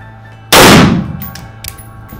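A single loud CZ Bren rifle shot fired outdoors, a sharp close crack with a decaying echo tail, followed by faint metallic clinks.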